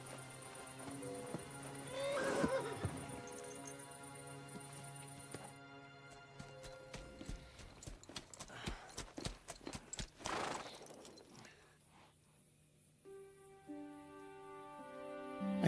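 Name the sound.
horses neighing and hooves in video game Kingdom Come Deliverance II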